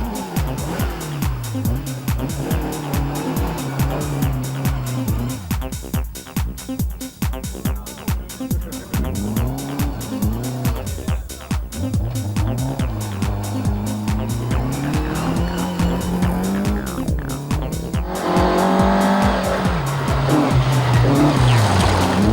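Rally cars from a 2002 event rev hard and spin on a gravel road, engines droning and wavering in pitch with tire scrabble and skidding noise, loud and continuous throughout.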